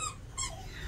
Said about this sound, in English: So Bean is squeaking things